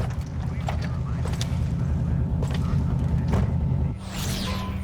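A car engine idles steadily in Cyberpunk 2077: Phantom Liberty, a low continuous rumble that holds evenly throughout and dips briefly near the end, with no voices over it.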